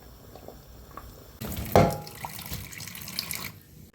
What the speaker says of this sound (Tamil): உருளைக்கிழங்கு வந்து எடுத்து தண்ணியை வந்து வடிகட்டிடலாம்.